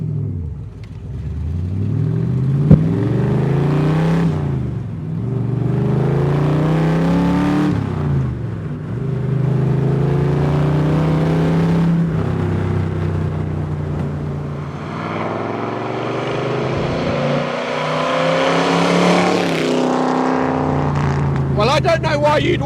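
An AC Cobra 289 V8 roars loud and close as it accelerates hard through the gears, its engine note rising and dropping with each shift, while a voice talks over it.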